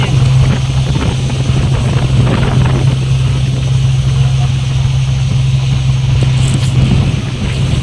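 Launch boat engine drones steadily on a river crossing. A low, loud hum holds throughout, under wind buffeting the microphone and faint background voices.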